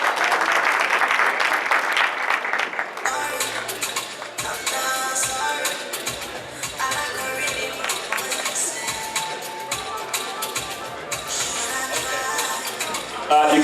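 Sustained, loud applause from an audience at a gala award ceremony celebrating a ten-year anniversary, dense clapping continuing throughout with crowd noise, rising briefly at the end.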